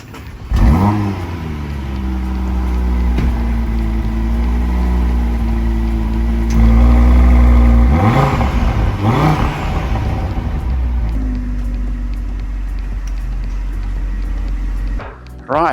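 A five-cylinder Audi RS3 engine, set against a 2025 Mercedes-AMG A45S, revs loudly and close, with rising and falling sweeps and a sustained high-rpm howl before a sudden cutoff at the end.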